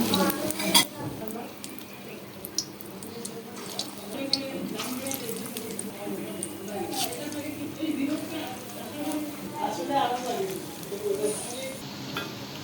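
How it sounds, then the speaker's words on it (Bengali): Egg-dipped jali kababs fry in hot oil that was first used for frying onions. A steady sizzle runs throughout under a speaking voice, with occasional utensil clinks. "এটা বেরেস্তা ভাজার তেল ছিল সেটার মধ্যেই আমি এখন এই যে কাবাবগুলো ডিমে চুবিয়ে এই যে ভেজে নিচ্ছি"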